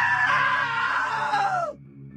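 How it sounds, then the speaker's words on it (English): A loud, sustained scream in What Remains of Edith Finch holds high for over a second and a half, then falls away abruptly into near silence and a faint low tone. "Now that was a great scream."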